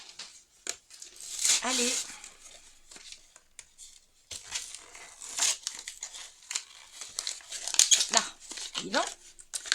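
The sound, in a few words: opening the plastic packaging of a glue pen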